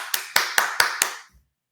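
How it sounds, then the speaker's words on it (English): Five sharp hand claps in a quick even rhythm, close and fairly loud, with no talking and a brief soft bump after they stop. "I'm going to clap it up for you"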